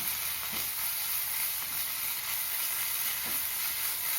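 Ginger garlic paste and onions sauté in a hot pan for a spicy egg capsicum masala, giving a steady close sizzle with a couple of soft stirring scrapes and no talk.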